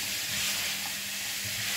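A savory filling for Turkish börek fries in a pan with an even, close hissing sizzle that stays constant and uninterrupted.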